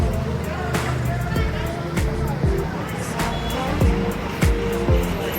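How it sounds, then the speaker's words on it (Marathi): Heavy road traffic on the Kedarnath pilgrimage route, a steady dense roar of cars and trucks with repeated horn blasts and passing engines, while voices murmur through the traffic. "हे पूर्ण ट्रॅफिक आहे"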